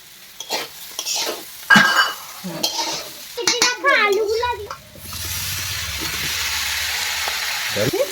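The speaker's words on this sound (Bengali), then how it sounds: "এবার নাড়াচাড়া করে দিচ্ছি" Khichdi with turmeric, salt and chili being stirred in a cooking pot, a spoon scraping and clinking against the metal over a soft sizzle, with a person talking at the start.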